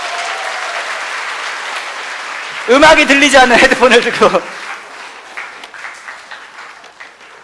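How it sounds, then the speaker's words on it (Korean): An audience at a live talk bursts into a short round of clapping for two people, loud and close for about two seconds, with someone speaking before and after it. "이 두 분한테 큰 박수 좀 부탁드릴게요."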